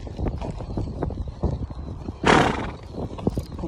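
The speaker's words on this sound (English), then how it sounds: "when she starts snorting and stuff, she's upset" An Arabian mare being ridden gives a sharp, breathy snort amid her hoofbeats and heavy breathing, close and loud, with the snort standing out briefly in the middle.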